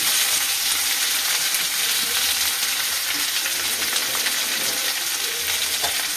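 Tomato, onion and shrimp fry vigorously in hot oil as they are stirred, a loud, dense, unbroken sizzle with faint scraping beneath it, close and steady throughout.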